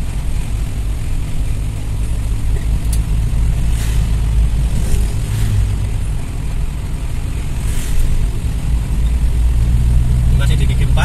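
Steady engine drone of a lowered Toyota Kijang cruising in fourth gear, a continuous low rumble with road noise, loud and close throughout.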